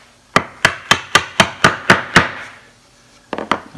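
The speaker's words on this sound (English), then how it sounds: "We have our hammer." A hammer knocks a wooden shaker door panel into a tight-fitting frame: eight sharp, evenly spaced wooden blows in quick rhythm, a pause, then a couple of quicker, softer taps, close and loud with no talk.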